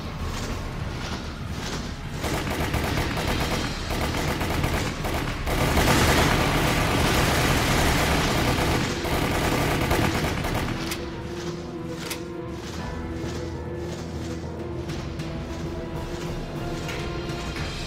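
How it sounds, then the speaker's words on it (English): Submachine gun fire in the video game Resident Evil Chronicles, a dense continuous rattle of rapid shots that swells midway, then thins into lighter bursts over a droning background. "switch up to your submachine gun"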